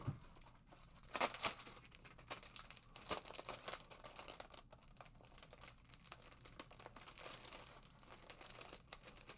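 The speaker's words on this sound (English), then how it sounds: "Let me grab some paper here." Paper is crumpled and handled up close during card making, with irregular crinkling bursts and rustles, some louder crackles early on, continuing throughout with no speech.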